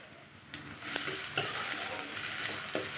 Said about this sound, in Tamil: பொடியாக கட் பண்ண வெங்காயத்தை சேர்த்து நல்லா கலர் மாற வரையும் நல்லா வதக்கிக்கணுங்க